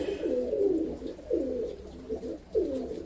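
Roller pigeons coo nearby in a loft, three or four soft rolling calls in a slow repeating rhythm, clear against quiet background hiss with no talk.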